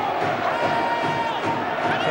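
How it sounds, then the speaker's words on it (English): Rugby league crowd cheering and roaring for Wigan Warriors late in a close match against Wakefield, a steady dense wash of voices throughout with a sustained tonal chant line running under it. "Crowd doing their best to lift the Wigan Warriors for a big effort in the last quarter of the match."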